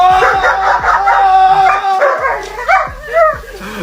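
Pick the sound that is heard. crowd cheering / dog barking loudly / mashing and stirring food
dog barking loudly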